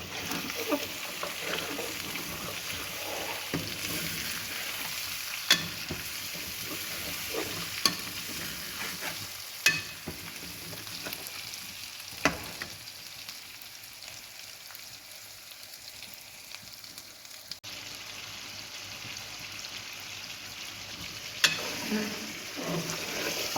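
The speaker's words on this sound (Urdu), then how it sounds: "تو مسالے کو تھوڑا سا ہم بھونیں گے۔" Masala with red chillies frying in a karahi pan for Afghani chicken karahi, a steady close sizzle with occasional scraping stirs and clinks throughout.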